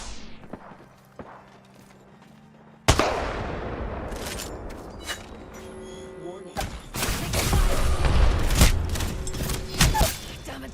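Gunfire in the battle royale shooter Apex Legends, repeated sharp shots and rapid bursts with thuds and footsteps, growing denser and louder toward the end, with in-game voice callouts.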